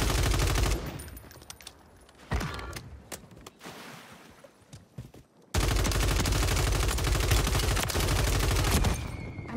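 Sniper and rifle fire in Warzone rattles in loud bursts, cracking shots punctuating a stretch of sporadic firing before a long, dense barrage of rapid gunfire fills the second half, with no talking.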